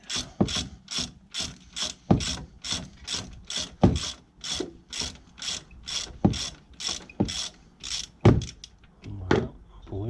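A ratchet wrench clicks in quick regular bursts while loosening the Allen bolts on a 2012 Seat Ibiza brake caliper, a loud close series of sharp metallic pawl ticks with brief pauses and heavier clacks.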